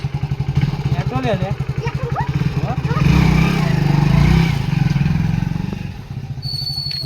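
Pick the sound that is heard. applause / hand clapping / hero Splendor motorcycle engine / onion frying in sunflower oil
hero Splendor motorcycle engine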